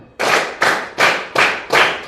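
Five sharp hand claps in a steady counted rhythm, each loud and ringing briefly in a reverberant room, with no voices over them.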